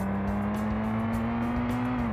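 Race car engine in a Unity-built racing game, a steady loud drone whose pitch creeps upward as the car gains speed on a straightaway, then dips slightly at the end.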